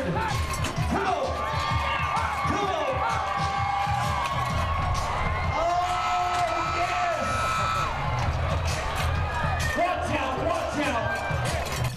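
Rodeo crowd cheering and whooping wildly after a ride, a continuous loud wash of voices with an announcer talking over it.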